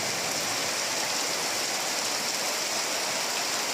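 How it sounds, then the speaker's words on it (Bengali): Heavy rain pours down outdoors on a rainy day, a dense, steady rush of water that holds unbroken at an even loudness for the whole stretch, with no voices. "বৃষ্টির শব্দ আমার মনে হয় সবার কাছেই ভালো লাগে"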